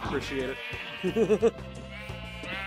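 Several short sheep bleats in Minecraft VR survival mode, a quick run of rising, wavering calls in the middle, with a person speaking briefly and game background sound underneath.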